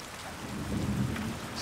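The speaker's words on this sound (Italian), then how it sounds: "quelli là sono praticamente tuoni" Thunder rolls in the Jumanji: Wild Adventures video game, a low, sustained rumble that swells toward the middle, with rain-like hiss throughout and no talk.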